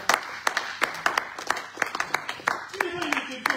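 A church congregation claps during a Sunday worship service, with sharp, irregular hand claps that rise and fall in bursts, the clapping loud and near, and worshippers' voices mixed in beneath it.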